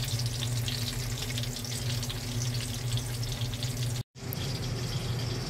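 Milkfish frying in a pan, a dense, loud, continuous spattering sizzle with a low steady hum beneath it, cut off by a brief dropout near the end, no one speaking.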